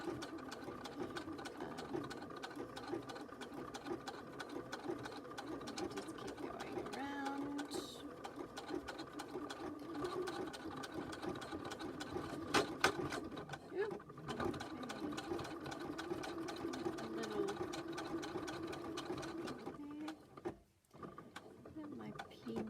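A sewing machine stitching forward and back on a zipper purse, a steady close mechanical whir with brief pauses and a short stop near the end, and a person talking quietly underneath.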